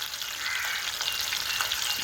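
Fish frying in hot oil gives a dense, steady sizzle that is close and fairly loud, continuous throughout with no voices.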